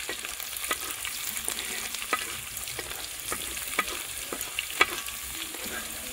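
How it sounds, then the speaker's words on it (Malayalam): Garlic and shallots fry in a pan for Kerala sambar, a steady close sizzle with scattered clicks and scrapes of stirring, continuous for several seconds with no voices. "ആ വെളുത്തുള്ളിയും ചെറുള്ളിയും ഇട്ട് കൊടുക്കാം അതൊന്ന് മൂത്ത് കഴിയുമ്പോൾ"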